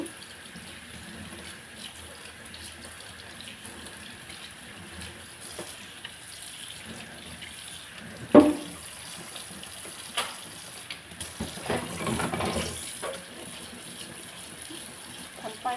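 Tap water runs steadily at a kitchen sink while things are washed, a continuous gush with occasional clatters and splashes as items are rinsed.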